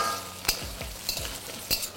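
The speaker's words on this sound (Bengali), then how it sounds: "এরপর আলুটাকে আপনারা 1 থেকে 2 মিনিট একটু ভালো করে ভেজে নিন।" Diced potatoes frying in a wok with a low continuous sizzle, broken by several quick spatula scrapes and clinks against the pan, close and moderately quiet.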